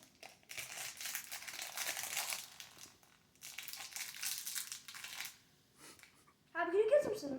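Plastic packaging around a Tornado V2 3x3 speed cube is crinkled and torn open in bursts of close, crackly rustling, with brief pauses between handlings.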